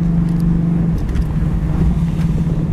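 A 1968 Camaro convertible cruises in second gear at about 3,000 RPM and 35 mph, its engine giving a loud, steady, low droning hum with continuous road noise, heard close from inside the car with no talking.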